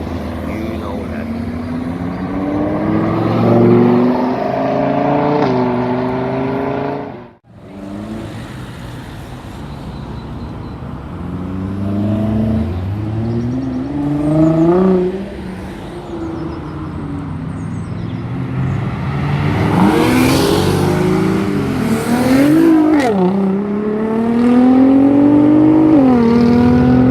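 A Lamborghini at a cars-and-coffee gathering revs and accelerates loudly close by, with repeated rising engine sweeps and a brief drop before more hard pulls, while people talk and shout around it.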